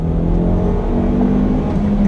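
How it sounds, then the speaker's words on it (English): A 2018 Hyundai Elantra GT Sport accelerates in second gear, a steady loud low engine and exhaust drone with a faint rising tone, heard from inside the car without talk. "Nice sound coming from the back of the car."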